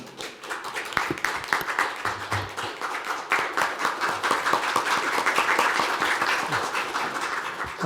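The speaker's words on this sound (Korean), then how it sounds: "큰 박수 부탁드리겠습니다" An audience at a policy forum on disability personal budgets claps together in sustained applause, a dense patter of many hands that holds steady and slightly swells.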